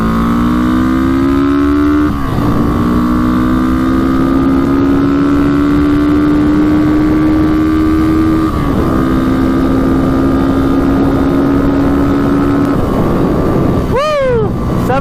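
A restored barn-find Honda CB350 motorcycle accelerates hard through the gears, its engine rising in pitch in each gear with clear dips at the shifts, loud and close over wind rush, ending in a sharp high revving sweep.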